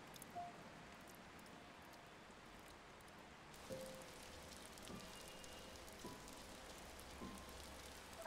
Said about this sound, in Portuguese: É chuva?